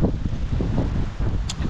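Strong wind gusts blow across an island beach, a steady roaring rush buffeting the microphone close up, with no voices.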